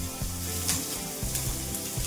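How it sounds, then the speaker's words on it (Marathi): Ginger-garlic paste and onion sizzle steadily in a hot pan, with a few soft stirring scrapes for aloo palak, close and continuous with no talk. "आता हे घेऊन मिक्स करून आणि छान परतून घ्यायचं आपल्याला।"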